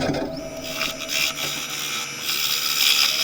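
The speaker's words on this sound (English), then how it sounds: "I've turned the lathe speed up as well." A wood lathe spins a cherry serving bowl at about 300 to 350 rpm while a square-edge carbide tool makes finishing cuts on the bottom, giving a steady close whirring hiss with a rough scraping texture that swells and eases.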